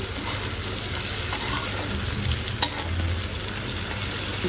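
Fish fries in a pan with a constant close sizzling hiss, a low bubbling undertone and one sharp click partway through, no speech.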